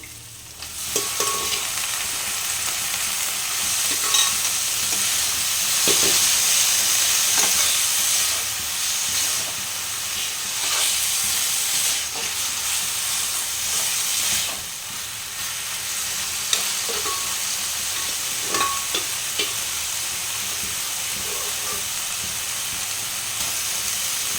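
Figs frying in a pan over a high gas flame give a strong, continuous sizzle and hiss, with occasional utensil scrapes and stirring clicks across the long stretch.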